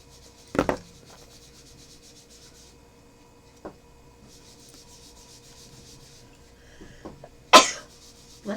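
Two sharp, loud sneezes, one early and one near the end, with quiet rustling and soft background noise in between.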